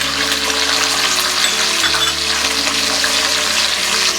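Roasted peanuts stirred into a hot tempering of green and red chilies, curry leaves and cashews for raw mango rice give a loud, steady, close sizzle with faint stirring, and nobody speaks.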